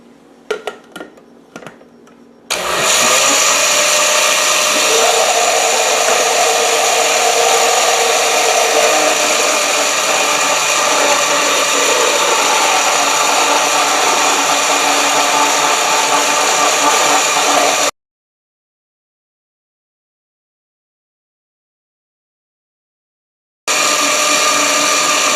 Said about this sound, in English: I'm going to turn the blender back on